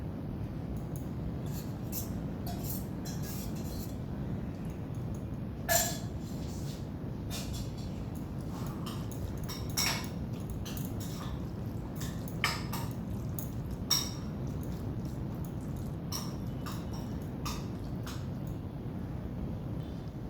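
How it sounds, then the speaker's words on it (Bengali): A spoon mixes curd into ridge gourd raita in a bowl, giving sparse light metallic clinks and taps over a steady low background hum. "দেখুন আমি এতে দই দিয়ে দিয়েছি, দিয়ে মিশিয়ে দিয়েছি।"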